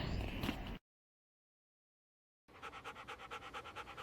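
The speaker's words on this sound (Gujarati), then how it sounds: "કૂતરાને ઇંગ્લિશમાં ડોગ કહેવાય." A dog pants in quick, even, rhythmic breaths close by, starting after a brief burst of other noise and a stretch of silence.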